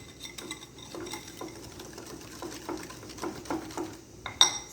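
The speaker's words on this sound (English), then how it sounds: "you just want to whisk it till you can get as much of the lumps out as you can from the flour" A whisk beats flour batter for a peach cobbler in a bowl, making quick, light, rhythmic clicks and scrapes against the sides at close range, soft and steady with a sharper clink near the end.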